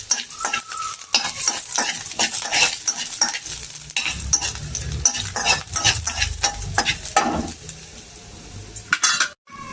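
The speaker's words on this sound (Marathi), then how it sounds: "तेल गरम झालेलं आहे, याच्यामध्ये आपल्याला आलं लसूण घालायचं आहे आणि सोबतच घालणार आहे आपण लाल मिरची." Ginger, garlic and red chili sizzle and fry in hot oil in a pan while being stirred, a steady close crackle broken by repeated scraping stir strokes, with no talking.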